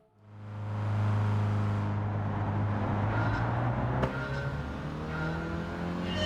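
A car engine in Gran Turismo 7 swells up quickly and then holds a loud, steady drone with strong low harmonics, like a sustained run at high revs, close and continuous with no break.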